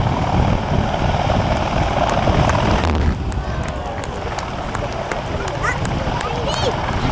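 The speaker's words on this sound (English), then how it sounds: "Apache attack helicopter." An Army Air Corps Apache attack helicopter performs a demonstration at the Cosford air show, a loud continuous rotor and engine roar close by, with a public-address voice talking over it.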